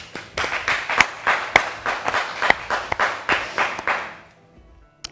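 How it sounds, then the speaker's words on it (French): An audience on a French-language talk show claps for a guest, a burst of brisk, fairly loud applause that fades out after about four seconds. "On applaudit"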